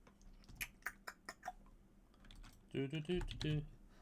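Quick, close taps on a computer keyboard come in short irregular bursts while someone types, and a voice speaks briefly near the end.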